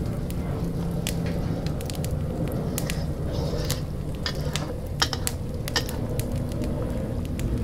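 Curry with fish and squid simmers in a pot, a steady low bubbling with soft wet popping and scattered crackles, even and unbroken throughout.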